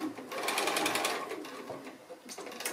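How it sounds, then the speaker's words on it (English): Sewing machine stitching a roughly 3/4-inch seam on a small square drawstring bag made from 2 1/2-inch fabric strips, a close, steady rapid mechanical whir running almost the whole time, easing off briefly near the end. "I'm just going to sew about a 3/4 of an inch seam allowance"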